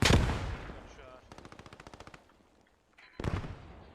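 Machine gun fire in a WWI trench-warfare video game: a rapid burst of about a dozen evenly spaced shots, preceded by a loud blast and followed by another heavy report, with game ambience between.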